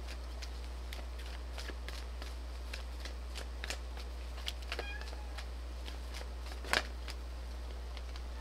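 Romance Angels oracle cards are shuffled by hand in a series of soft, quick riffling flicks over a steady low hum, faint and close, with one sharper snap near the end and no talk.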